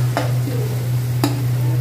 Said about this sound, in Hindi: ये अभी जो प्याज और गार्लिक इसमें डाला है चॉप करके, उसको थोड़ा सा गोल्डन ब्राउन कर रहे हैं